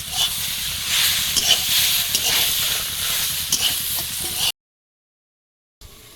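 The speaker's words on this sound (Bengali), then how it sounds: "এবারে চিংড়ি কাঁকড়াটাও এর মধ্যে দেবো দিয়ে আলুর সঙ্গে ভেজে নেব" Potatoes fry together with prawns and crab in a pan, a loud continuous hissing sizzle with stirring scrapes that cuts off abruptly into silence, then briefly resumes.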